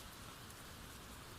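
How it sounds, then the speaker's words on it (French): Rain falls steadily and softly outside a forest cabin, a dense even hiss with no voices or other sounds. "La pluie tombait toujours, mais plus faiblement maintenant, comme une caresse légère."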